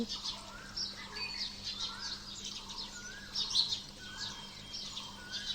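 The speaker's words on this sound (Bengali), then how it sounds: "আমি চুপ থাকি, পাখির ডাকগুলো শুনুন।" Several birds, including green pigeon, dove, koel and sparrow, call and chirp over a steady low hum, with bright repeated tweets and short whistled phrases overlapping throughout, no voices.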